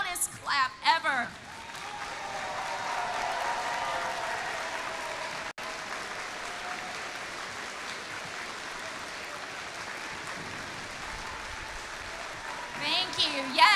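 Students at a school district event clap for parents, coaches and volunteers, a broad sustained round of applause from a large crowd, with someone speaking briefly at the start and end.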